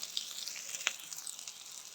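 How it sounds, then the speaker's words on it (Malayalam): Coconut pieces sautéing with onion, curry leaves, shallots, ginger and garlic in a pan, giving a steady close sizzle and fry with a brief stir or scrape, no voices. "തേങ്ങാക്കൊത്ത് വഴന്ന് വരുമ്പോൾ സവാള, ഇനി കറിവേപ്പില, ചെറിയ ഉള്ളി, ഇഞ്ചി, വെളുത്തുള്ളി,"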